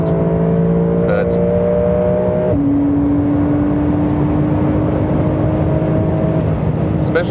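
A Porsche 911 Carrera of the 992 generation revs on a racetrack, its engine note holding steady tones that step down around a gear change, loud and close from start to finish.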